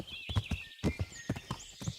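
A horse in the medieval game Kingdom Come: Deliverance gives a short whinny over quick, clear hoof clip-clops on the ground, close and fairly quiet, with no speech.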